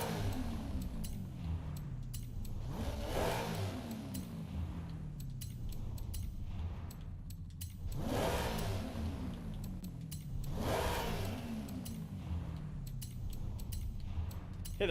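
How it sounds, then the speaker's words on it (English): Upgraded Volkswagen Golf in Forza Horizon, its engine revving hard in repeated surges that climb and fall back, with sharp gear-change cuts between them, loud and continuous throughout. "Here the revs just get more and more aggressive with every upgrade."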